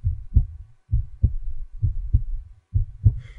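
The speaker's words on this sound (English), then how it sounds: "In a quiet room, if you press your ear against a pillow, you can hear your heartbeat." A heartbeat heard with an ear pressed against a pillow in a quiet room, muffled low thumps in steady paired beats, about four cycles, soft and close with nothing else around.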